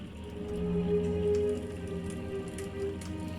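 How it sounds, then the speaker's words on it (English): Heavy rain in a sandbox video game hisses steadily as a dense, even wash of droplets, with a faint low tonal hum underneath and no voices. "It's raining hard."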